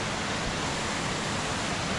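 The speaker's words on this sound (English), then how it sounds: "But I see a little waterfall up there, so I'm going to go quickly explore that" A small waterfall rushing steadily in the distance, a soft even hiss of falling water with no other sounds.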